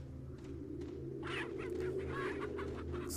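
Chickens in Resident Evil 4 clucking softly in short, irregular bursts over a low ambient game hum, faint and close.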